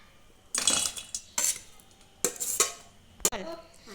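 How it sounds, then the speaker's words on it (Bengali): Cut onion and chili are tipped from a utensil into a large bowl, giving four brief clattering bursts of metal and crockery separated by short pauses, close and moderately loud. "আমরা এখন এই পেঁয়াজ আর মরিচটা একটা আলাদা একটা বড় বাটির মধ্যে ঢেলে নেব।"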